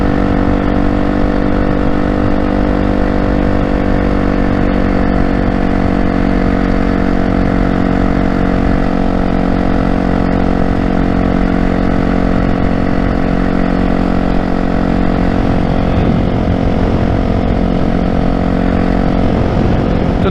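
A motorcycle engine holds a steady 2600 RPM, running with a constant loud, even drone and wind rush throughout, alone without talk.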